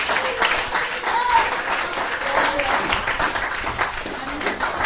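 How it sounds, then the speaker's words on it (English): Applause from a church congregation: steady, dense clapping that holds at a fairly loud, even level for several seconds, with voices mixed in among the claps. "Please clap for this guy."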